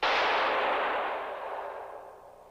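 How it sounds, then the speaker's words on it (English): A single loud gunshot from the film The Third Man, a sharp blast followed by a long rolling echo that fades over about two seconds. "That was the shot that killed Harry Lime."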